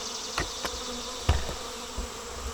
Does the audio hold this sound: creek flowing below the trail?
no